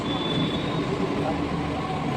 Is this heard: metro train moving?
yes